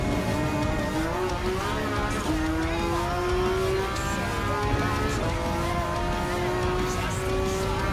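Steady, high-revving Porsche Cup race car engine in Gran Turismo 7 at the Nürburgring, pitch climbing through gears with faint tire squeal, while a voice talks over the drone.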